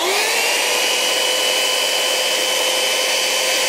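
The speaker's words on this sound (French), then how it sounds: "Prenons l'exemple de ma ponceuse qui consomme 950 watts. Je vais pouvoir l'utiliser en extérieur sans aucun problème à mon avis." A 950-watt electric sander runs steadily outdoors, powered by an Anker SOLIX F1200 power station, giving a loud, constant high whine with a motor hum that does not change, with no talk.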